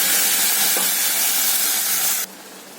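Spinach frying with sautéed small onions in a pan, a loud dense hissing sizzle that drops sharply in volume near the end.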